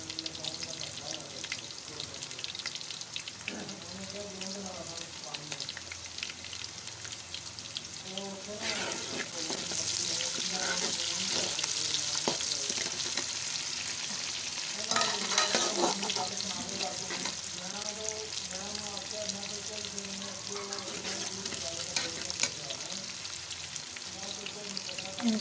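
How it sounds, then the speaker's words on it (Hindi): Onions sizzling and frying in a pan for fish curry, a steady crackle with stirring scrapes, and someone speaking in places. "अब मैं इसमें प्याज डाल दूंगी। हमारे प्याज जो है वो पिंक हो जाए।"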